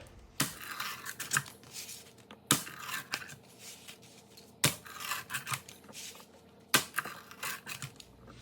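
A freshly baked Margherita pizza is cut up, four sharp crunching strokes at roughly two-second intervals, each followed by rough scraping and crackling, close and fairly loud.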